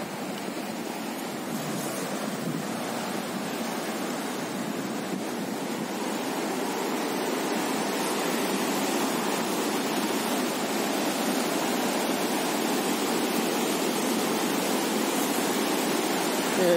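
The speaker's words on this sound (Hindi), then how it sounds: "बालासुंद रिवर" The Balasund River makes a steady, broad rush of flowing water, loud and unbroken throughout, with no voices over it.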